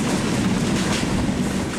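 Tungipara Express train running at speed through a large curve near Hardinge Bridge, a steady loud rumble of wheels and carriages with a faint rhythmic clatter throughout.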